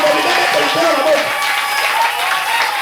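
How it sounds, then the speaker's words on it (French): A church congregation applauds and acclaims the Lord, making dense, steady clapping and cheering across the whole stretch, with voices mixed into the crowd noise. "J'aimerais maintenant que toute l'église acclame le Seigneur."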